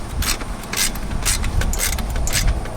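An 11mm nut is tightened on a beach cart axle with a ratcheting wrench, giving a close series of rhythmic clicking ratchet strokes over a low handling rumble.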